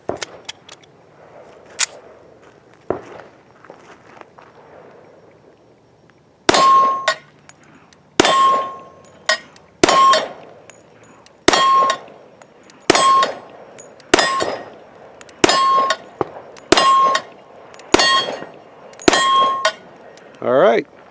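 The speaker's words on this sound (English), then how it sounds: "Luke's going to shoot the Cellular and Beveled FMJ 10mm." A Rock Island Armory double-stack 1911 in 10mm firing full metal jacket rounds at steel targets: ten sharp, loud shots at a steady pace, each followed by a ringing metallic clang from the steel, after a few quiet seconds.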